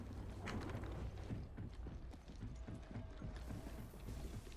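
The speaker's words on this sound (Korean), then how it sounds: "나 발소리 들려" Footsteps in the video game Apex Legends, a quick, steady run of soft thuds close by, evenly paced throughout against a quiet background.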